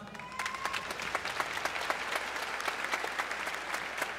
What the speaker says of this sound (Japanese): 今一度盛大な拍手をお送りください。